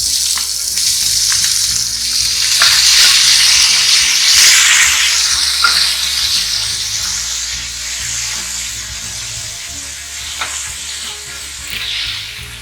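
Pineapple and tomato hitting hot oil with red chilli for rasam, giving a loud, continuous hissing sizzle with scattered scrapes of stirring.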